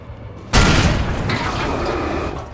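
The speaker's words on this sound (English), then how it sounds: "the explosion would do a little bit more damage" A loud explosion in the video game Alan Wake bursts in suddenly after a quiet start, then rumbles on as a sustained, dense roar of debris and echo.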